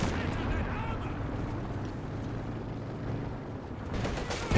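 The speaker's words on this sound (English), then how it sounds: "More rocket artillery denying the cap for the Axis" Rocket artillery fire in the video game Company of Heroes 2, a continuous rumbling barrage of launches and blasts with a sharper burst at the end, under faint voices.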